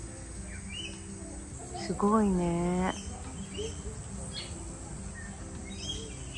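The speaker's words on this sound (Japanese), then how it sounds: "ここはいろんな鳥がいます。" Birds call and chirp at an Australian nature park, with one clear, loud, harmonic call lasting about a second in the middle and fainter chirps around it. A person speaks briefly.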